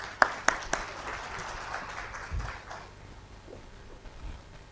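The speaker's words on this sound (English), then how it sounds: "Let's give a big round of applause to Jan." An audience at the India Advantage summit in Bangalore applauds Jan, with a few sharp claps at the start leading into a moderate, even patter of clapping that fades out after about three seconds.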